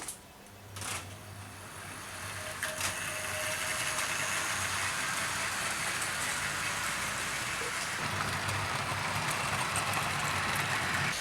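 A model Canadian Class G3 steam locomotive picks up speed around a layout, its motor and wheels building to a steady whirring, rattling hum that stays even and fairly close once it is running.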